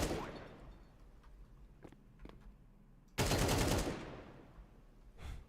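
An auto sniper rifle in Counter-Strike fires several sharp shots during a match, ending in one loud burst followed by a fading tail, with no talk over the sounds.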